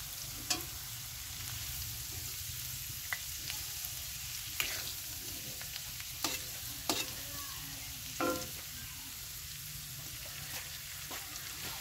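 Ginger garlic paste fries in a pan for dhundul curry, a soft even sizzle with a spatula scraping and tapping now and then, close and fairly quiet.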